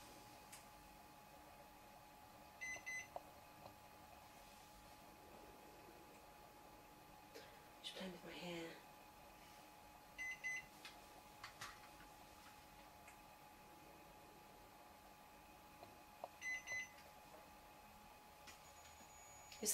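Short electronic beeps sound in several brief clusters from a K2 meter's temperature buzzer during a paranormal investigation indoors, faint and spaced apart over a quiet room with low hum and occasional small noises.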